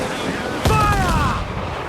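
Ship cannons fire a single heavy boom in the Assassin's Creed IV Black Flag naval game, a sharp near blast that rolls into a rumbling tail under a busy battle background with voices.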